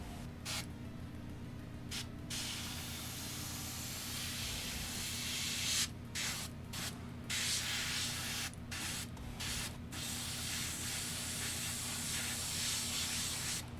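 Airbrush spraying paint, a steady soft hiss running throughout with brief interruptions and short bursts near the middle, close but fairly quiet over a low background hum.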